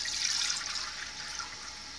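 An aging Kohler toilet tank refills with water after flushing, a steady close hiss and rush that tapers off slightly over two seconds.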